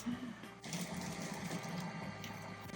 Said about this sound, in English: So I gotta wash my hands.